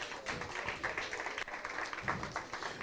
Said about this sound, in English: So Nonji, let's give her a round of applause as she comes up.